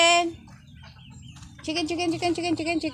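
Chickens cluck and squawk nearby, a loud hen call at first, then a busy run of clucking over quiet farmyard background.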